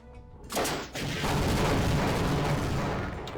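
Rocket explosions against the Gargantua in the video game Half-Life: a sharp launch followed by a dense, roaring blast and sustained rumbling burst, loud and close.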